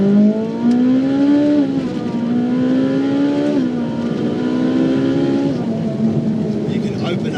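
Ferrari 458 Italia V8 revving hard as it accelerates on a wet road, engine pitch climbing and dropping through gear changes, loud and close with someone talking over it.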